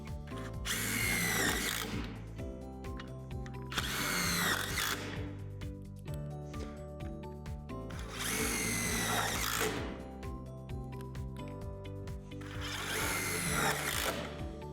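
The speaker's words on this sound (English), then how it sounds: "Place the center frame pad onto the backboard, oriented like this, then secure with the self-tapping screws." A power drill drives self-tapping screws through a center frame pad into a basketball backboard. It whirs in four loud, near bursts of about two seconds each, separated by short pauses.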